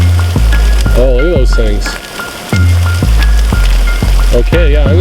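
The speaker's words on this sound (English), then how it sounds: "Oh, the hail's getting bigger." Hail pelts the ground on the summit of Black Mountain near Kelowna, British Columbia, a steady hissing patter that carries throughout, with a person talking close over it.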